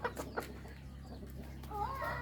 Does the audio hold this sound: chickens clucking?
yes